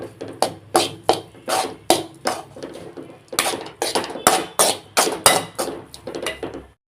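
Egg rice with pepper powder being mixed in a pan, a quick regular series of sharp tapping and scraping knocks from a utensil against the pan, close and fairly loud, about two strokes per second.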